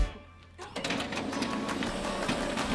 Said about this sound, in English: I wish Maya's copies would print.